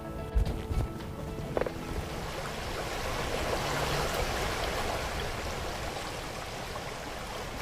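A river rushes over rocks below, a steady broadband wash of flowing water that swells slightly and holds constant, with a few brief knocks near the start.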